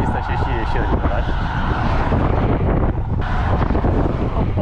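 Strong wind buffets the microphone while cycling out of town on a long road ride, a loud, continuous low roar with gusting rumble throughout and no clear talk.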